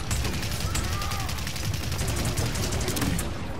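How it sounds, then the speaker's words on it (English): Rapid gunfire in the video game Paladins, a dense, continuous rattle of shots running steadily throughout at a fairly even level, with faint talk mixed in. "Shoot me again, Strix."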